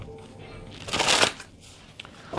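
A deck of tarot cards is shuffled up close, a quick riffling burst in the middle followed by soft card handling and a drawn card, with no talking.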